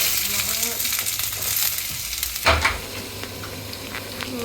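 Chopped onions sizzle steadily in hot oil for egg bhurji, a continuous close frying hiss with a stir and a brief louder clatter midway, and a few faint words of speech.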